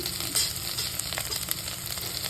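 Onion and asafoetida frying in hot oil with curry leaves, a steady close sizzle with faint crackles and light stirring clicks throughout, no talking.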